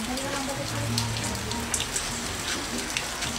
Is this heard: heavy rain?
yes